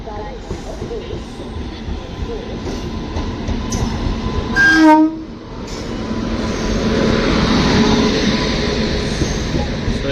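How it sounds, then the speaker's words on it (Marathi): The Mandovi Express rumbles alongside a station platform on the Konkan Railway with steady low noise, interrupted by a brief sharp horn or whistle blast midway, then continues rolling in. "zero one zero four Mandvi express प्लॅटफॉर्मवर आलेली आहे"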